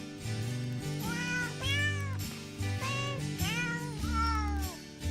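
Cat meows pitched into a Christmas song, the bending, rising and falling calls sung over a steady musical backing, loud and continuous throughout.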